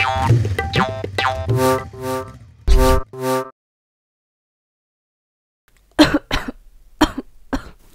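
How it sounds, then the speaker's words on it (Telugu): A person coughs in a quick burst of harsh, throaty coughs, falls silent, then coughs a few more times more briefly. "దగ్గు వస్తుంది, నాకు వాటర్ తెస్తా"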